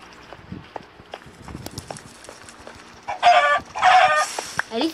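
Chicken in the video game Minecraft giving clucking calls, with steady game sounds and footsteps running underneath and two loud bursts of noise near the end.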